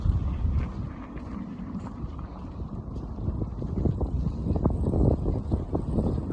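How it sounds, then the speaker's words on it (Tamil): Strong wind buffets across a snowy, icy landscape, a rough, continuous rumbling roar with gusty surges and crackly bumps, loud and close, with no speech. "சரியான காற்று அடிக்குது."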